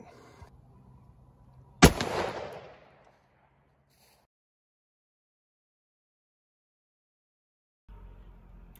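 A single loud Glock 29 10mm pistol shot fired into ballistics gel, a sharp crack with a brief decaying echo, followed by near silence.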